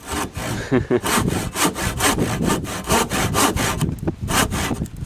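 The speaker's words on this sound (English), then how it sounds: "This saw cuts really nice and quick." A Mastercraft hand saw cuts through wood in quick, steady back-and-forth strokes, each rasping pass loud and close, with a brief pause near the end.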